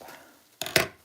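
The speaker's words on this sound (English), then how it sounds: "Popping the bubble wrap" Bubble wrap is popped while being cut during flower packing, giving two sharp crackling bursts close by after a quiet moment.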